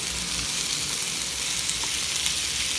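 Chicken breast seasoned with black pepper, salt and paprika fries in avocado oil, giving a steady, close, even sizzle with fine crackle and no voices throughout.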